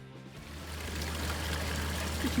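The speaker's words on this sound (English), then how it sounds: "Diddy waterfall." A small waterfall on a countryside walk near Woodborough, trickling and splashing steadily as a soft continuous wash over a low background rumble.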